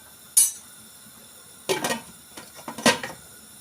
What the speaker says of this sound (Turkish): Şimdi kapağını kapatıp bunu biraz pişireceğiz önden.